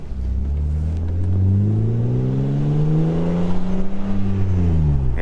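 A BMW E36 M3's engine revs up in a steady, rising drone, holds near the top, then eases down, loud and close with no talk over it.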